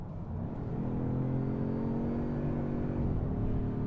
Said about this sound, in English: they put a little bit of work into just making the engine sound good